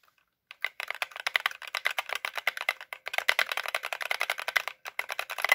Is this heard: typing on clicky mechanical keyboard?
yes